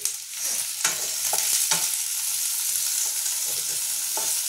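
Chicken pieces fry lightly in a pan for a chicken pizza, a steady loud hiss of sizzling oil broken by a few sharp scrapes of stirring.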